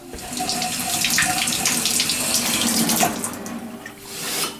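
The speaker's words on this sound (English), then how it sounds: "I'm going to rinse it off right now" Tap water runs steadily as a gold diamond ring is rinsed after an acid soak, a continuous close splashing hiss at a sink with no talk.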